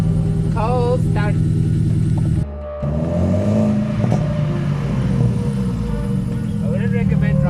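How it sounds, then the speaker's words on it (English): Ford Figo engine fires up on a cold start and is revved, a loud steady idle with rising engine pitch, a brief cut midway, then continued running close by. "Cold start."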